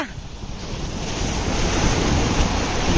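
Sea waves roll and break on the shore at Murud, a continuous, swelling wash of surf that grows louder toward the end, with wind buffeting the microphone.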